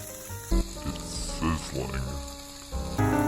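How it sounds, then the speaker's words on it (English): Food sizzles and crackles in a hot wok, a steady frying hiss with a few clanks and a voice speaking over it. "It's sizzling."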